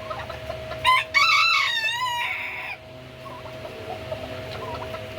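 A large Orpington chicken on a farm gives a sharp squawk and then a drawn-out, wavering crow-like cackle that fades after a couple of seconds, leaving quiet farm ambience with a steady faint hum.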